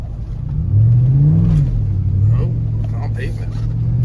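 A 2007 Chevy Suburban Z71 engine revs up loudly and holds a droning pitch while the truck power-slides on pavement, close and steady, with a voice talking over it.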